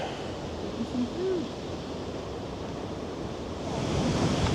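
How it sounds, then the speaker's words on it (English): Steady rushing wind through trees, broadband and continuous, swelling slightly louder toward the end, with no other distinct sounds. "You can hear the wind whipping through the trees"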